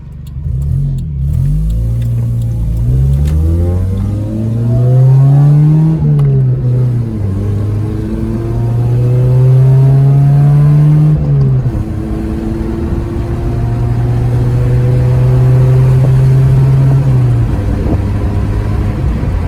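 A 1992 Toyota Paseo engine revs and accelerates, pitch climbing through gear changes, loud and close throughout with no talking.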